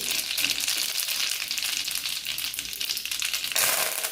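Mustard seeds and cumin hit hot oil with a loud, close, crackling sizzle that holds steady and swells again near the end.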